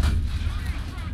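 A tank cannon from the XM8 AGS light tank in the video game War Thunder fires a single round, one heavy booming blast that rolls off into a low rumbling tail, loud and close.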